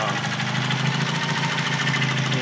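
A KA24DET engine fitted with LS2 coils, a DIY trigger wheel and 1000cc injectors idles steadily, giving a close, even, continuous rumble that runs throughout.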